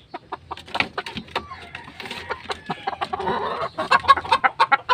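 Chickens clucking in short, irregular bursts close by, with overlapping calls building into a busier flock chatter toward the end; a small backyard flock of native hens outdoors after a stretch of rain.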